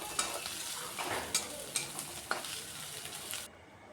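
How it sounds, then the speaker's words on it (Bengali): Grated ginger, garlic and onion frying lightly in a pan: a quiet, steady sizzle punctuated by several soft stirring scrapes, ending abruptly, with no voices. "আদাটা দিয়েও হালকা ভেজে নিচ্ছি, এতে করে আদা রসুন পেঁয়াজের কাঁচা গন্ধটা চলে যাবে"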